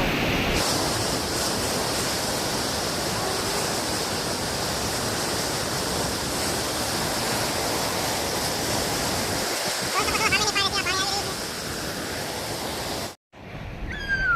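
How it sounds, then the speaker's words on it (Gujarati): Rushing water on a mountain, a loud, continuous roar like a waterfall or torrent, steady throughout before cutting out briefly near the end, with faint birdlike chirps at one point. "કેટલો અવાજ આવે છે કેમ તો આ પાણી છે"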